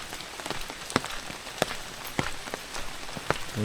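Steady rain pattering on a surface in a Konkan village during rice transplanting, with scattered louder drops landing irregularly close by.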